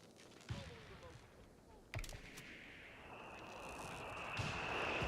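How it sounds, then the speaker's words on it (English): Mortar rounds in Company of Heroes, a World War II strategy game, land as two sharp blasts followed by a rising, rushing roar of battle noise, with distant gunfire and voices mixed in. "Mortar fire."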